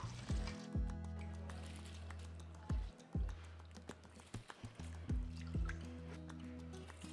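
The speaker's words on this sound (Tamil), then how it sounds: "பாருங்க இப்போ அரிசி போட்டுட்டோம்" Soaked basmati rice for mutton biryani tips into a pot of water, giving a few wet plops, drips and splashes at irregular intervals, quiet and close.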